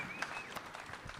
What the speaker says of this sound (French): On applaudit s'il vous plaît très fort Martine Maille, présidente du Club Molière